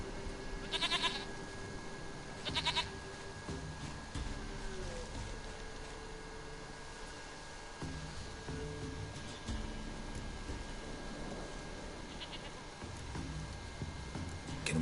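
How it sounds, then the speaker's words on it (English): A goat in The Witcher 3 video game gives several short, nasal bleats, spaced apart over a steady hum of game ambience, with no one talking. "Goat of mine, dearest, sweetest goat."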